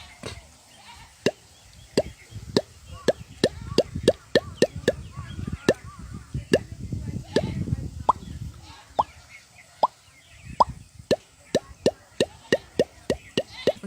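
A human voice imitates a tube well pipe being sunk into the ground with a long series of sharp, hollow plops in a steady rhythm over a low rumbling murmur.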